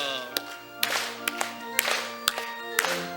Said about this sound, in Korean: 박수, 박수 치면서